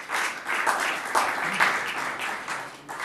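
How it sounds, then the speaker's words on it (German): An audience applauds at an anniversary event for German community radio, a dense, steady patter of many hands clapping that holds for about three seconds at moderate volume. "der kriegt auch nochmal einen Applaus."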